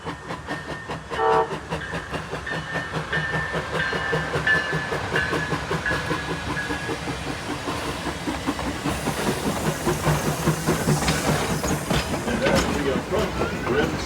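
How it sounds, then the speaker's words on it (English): Amtrak train 355, pulling a pair of private cars on the head end, runs side by side with the Calumet and Hecla Torch Lake train, a steady clickety-clack of rail cars rolling close by while a horn sounds briefly and voices murmur underneath. "we caught Amtrak train 355 going side by side with Calumet and Hecla Torch Lake"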